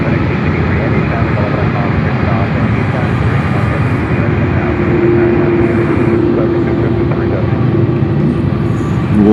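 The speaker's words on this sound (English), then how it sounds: "We'll follow this MD-11 for a while, if you don't mind, when it takes off" A FedEx MD-11 at Memphis International Airport giving a continuous loud, broadband jet engine roar throughout, steady and close, with a faint tonal whine emerging partway through, with a voice audible at points.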